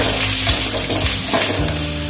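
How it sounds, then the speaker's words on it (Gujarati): Capsicum and paneer stir-fry in hot oil over a medium flame for paneer chilli, a loud, close, constant sizzle with occasional stirring scrapes, accompanied by steady background music. "મીડિયમ ફ્લેમ પર ગોલ્ડન થાય ત્યાં સુધી તેને તેલમાં સાંતળવાનું છે"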